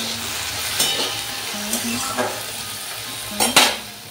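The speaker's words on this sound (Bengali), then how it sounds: "সর্ষের তেলে গোটা জিরে ফোড়ন দিয়ে আলুগুলো ভাজা ভাজা করে নিচ্ছি।" Potatoes frying in mustard oil with whole cumin tempering crackle steadily up close, broken by several sharp clinks and scrapes of a spatula stirring in the pan.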